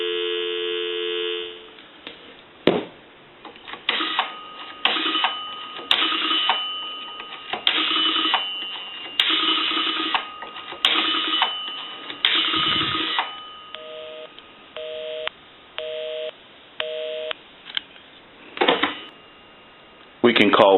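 Phone line tones heard through a payphone handset: repeated beeping pulses and dial tones in short bursts, with a person talking in between.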